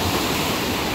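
Surf rolls onto Samudra Beach on Java's southern coast, a continuous loud roar of breaking waves with wind buffeting the microphone and no voices.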